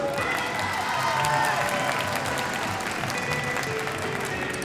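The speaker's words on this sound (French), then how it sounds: "On l'applaudit, s'il vous plaît, mesdames et messieurs." Applause from a crowd at a bowling tournament final at an indoor gaming expo, steady sustained clapping throughout with no one speaking over it.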